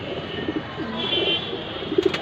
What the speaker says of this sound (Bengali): সবগুলো বিগ সাইজের কবুতর